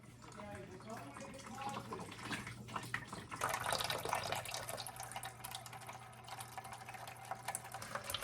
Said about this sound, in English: I can see how fast some of this water was flowing out